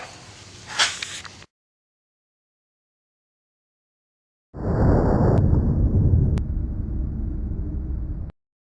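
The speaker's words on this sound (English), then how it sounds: "let's see how this plate holds up against some more armor piercing, interesting armor piercing, and some little hotter rounds" Armor-piercing rounds fired at a steel body armor plate: a sharp loud report followed after a pause by a long roaring burst of blast noise lasting several seconds, with no talking.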